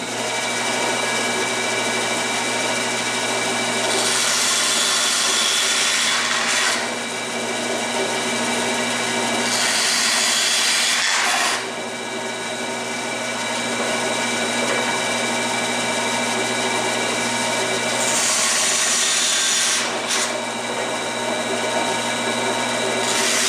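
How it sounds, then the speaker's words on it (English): A bandsaw runs with a steady motor hum, and its pitch shifts in several short bursts as the blade cuts freehand through the wooden end bar of a beehive nuc frame, close and continuous without talk. "I'm just going to do that freehand on the bandsaw"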